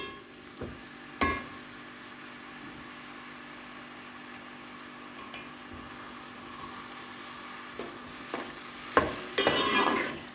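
Chopped onion cooks in oil with a quiet sizzle, punctuated by a few sharp stirring clatters and a louder scrape near the end.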